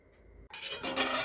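A lid is set down over a cooking pot of simmering dal and rice porridge, a short metallic clink followed by the close, steady hiss of the pot underneath.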